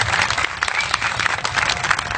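A large audience at a political speech for the Aam Aadmi Party bursts into loud, sustained applause, dense clapping throughout with no speech over it.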